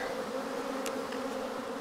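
Honey bees shaken out of a hive box during a Taranov split give a steady, close, moderately loud buzzing hum with no talk over it.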